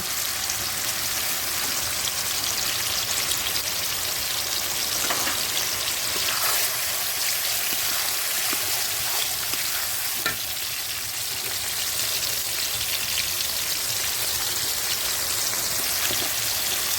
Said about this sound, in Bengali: গরম কড়াইয়ে তেল ঢেলে দিব তাতে প্রথমে বেটে রাখা পেঁয়াজ বাটা রসুন বাটা এগুলো গরম তেলে ঢেলে দিয়ে ভেজে নেব